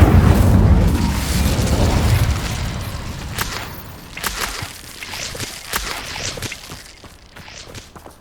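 An Incendio fire spell from Hogwarts Legacy opens with a loud, rumbling whoosh that fades over a couple of seconds, followed by scattered sharp pops and crackles that grow quieter.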